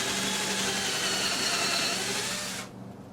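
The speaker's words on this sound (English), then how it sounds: "I'm just going to pre-drill these holes with this other bit that I have" A power drill pre-drilling holes to mount a security lock box in a garage runs steadily at high speed, a loud continuous whine, then cuts off abruptly near the end.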